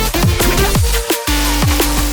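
A drum and bass beat with a sidechained kick, snare and bass, playing as punchy, evenly spaced hits over pumping low bass that briefly drops out in the middle.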